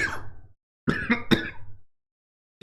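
A person with a rough, infected throat clears it and coughs in short bursts, close to the microphone, with brief silent gaps between the bouts.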